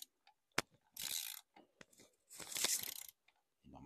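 Ratchet tightening intake manifold bolts on a Peugeot 207 HDi diesel with 530,000 km, heard as a few short close clicks followed by two longer bursts of rapid ratcheting, with quiet pauses between.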